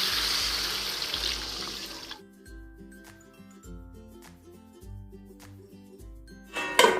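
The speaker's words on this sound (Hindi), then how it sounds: "एबे इथरे ढाली दबा गरम पानी" Hot water is poured into a cooking pan while Odia-style mango khata is being made: a rushing splash for about two seconds, followed by quieter clinks and kitchen handling sounds.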